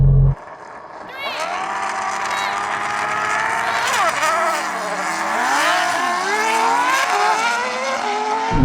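An F1 car, a MotoGP bike and a 1,400-horsepower Porsche 911 launch in a drag race. Loud, close engines scream upward in pitch, with shifts breaking the rising whine, and the roar stays sustained throughout.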